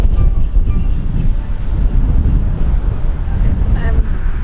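Strong wind gusts across a microphone on a mountain on a sunny holiday, a loud continuous roaring buffet with no pauses, nothing else audible over it.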